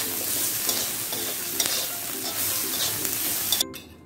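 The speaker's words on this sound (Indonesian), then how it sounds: "Dan di sini saya akan tumis bumbu yang tadi ditumbuk." Pounded spice paste for sambal udang rebon sizzles steadily in a hot pan while being stir-fried, with a continuous close frying hiss and occasional scraping stirs, ending abruptly; no talk.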